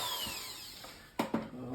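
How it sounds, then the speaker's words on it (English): A power drill whirs and winds down with a falling whine, followed by two sharp clicks as it briefly catches again, fairly close by, while drilling a piece of tin. "You need a drill."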